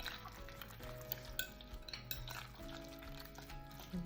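Guacamole ingredients with fresh jarred garlic being mixed together in a bowl, giving soft close scraping and clinking of a utensil against the dish in a continuous, fairly quiet stirring rhythm, no talking.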